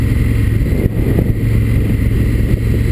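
A 2016 Honda Africa Twin motorcycle engine drones at a steady, low-revving pitch under riding conditions, loud and close with constant wind rush, no speech heard.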